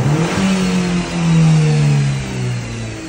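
A new Chevrolet Cobalt engine with about 11,000 km on it and a fault from incorrect programming is revved once. The note climbs into a loud, steady rev, holds, and then eases back down, with no talking.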